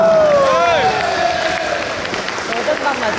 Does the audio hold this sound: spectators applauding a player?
yes